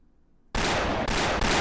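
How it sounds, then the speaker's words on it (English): Gunfire in Fate/Grand Order bursts in loud and sudden after a quiet start, a dense continuous roar of shots with two brief dips, no talk over it. "Alright, more with the gunshots."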